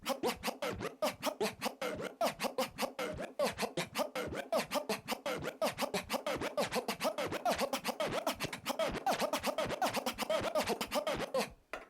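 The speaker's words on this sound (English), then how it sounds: "combine these two scratches by doing a chirp first followed by a flare" Rapid DJ scratching cuts back and forth in a quick, rhythmic pattern, chirps and flares chopping a sample with sharp bursts, loud and continuous.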